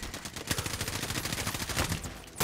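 Rapid bursts of Call of Duty: Warzone gunfire crackle in a fast, continuous rhythm, sharp and dense, with a final louder burst at the end.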